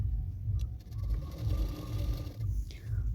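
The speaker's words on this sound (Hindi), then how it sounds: "इसलिए आप लोग ना ध्यान से देखना कि मैं कैसे सिलाई कर रही हूँ।" A sewing machine stitching a blouse sleeve for a princess-cut blouse, running with a steady mechanical whir and rapid needle clatter, close and continuous through the whole stretch.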